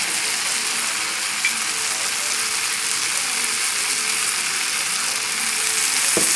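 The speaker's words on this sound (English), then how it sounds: "Now I'm going to add the wine." Dry white Pinot Grigio poured into a hot pan of browning pork loin steaks and onions, setting off a loud, dense, continuous sizzle and hiss close up, without talk.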